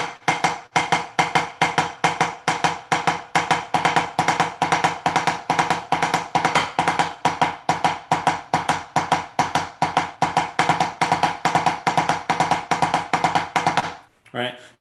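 A drum exercise of duple double strokes, played fast and evenly as a continuous stream of crisp hits at close range, steady in volume for about fourteen seconds before stopping abruptly.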